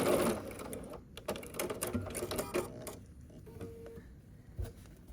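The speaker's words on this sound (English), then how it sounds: "just kind of go slow over that point to make sure your needle doesn't have any problem stitching through that" A sewing machine stitching a foundation paper pieced quilt block runs in short, stop-start bursts of rapid needle clatter, slowing and pausing near the end.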